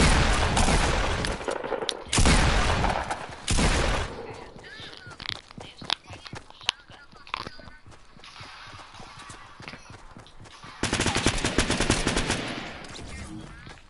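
Fortnite battle royale gameplay with bursts of rapid gunfire and loud blasts, coming in clusters near the start and again toward the end, under a player talking over game sounds.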